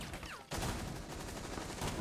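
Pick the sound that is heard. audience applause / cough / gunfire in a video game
gunfire in a video game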